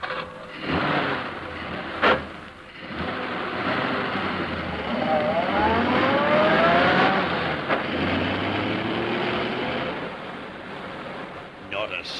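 A car engine starts and runs steadily, rising as the car pulls away in a radio drama scene, with a sharp knock near the start and a continuous motor drone throughout.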